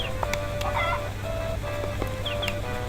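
Chickens clucking in the Harvest Moon: Friends of Mineral Town video game, brief repeated clucks over steady game background music.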